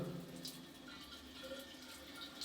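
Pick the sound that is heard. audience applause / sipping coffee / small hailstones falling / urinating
urinating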